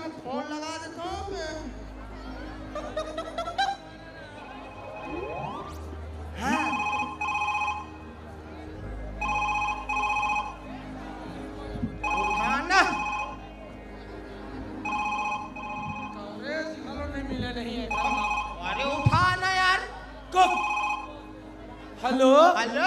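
A telephone rings in repeated electronic bursts during a staged comedy performance, alternating with raised voices talking over and between the rings.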